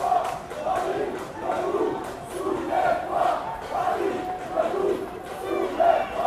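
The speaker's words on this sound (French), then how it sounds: "Donc la foule est en train de crier Paris," Protest crowd at Place de la République in Paris chanting a rhythmic slogan, many voices rising and falling in repeated phrases, loud and massed with a faint murmur underneath.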